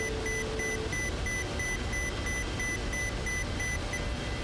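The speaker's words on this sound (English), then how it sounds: "Let's get that alarm shut off by flying properly a little bit." An alarm sounds in a flight simulator video game as a repeating high beep, evenly pulsed and steady throughout, over constant engine-like background noise.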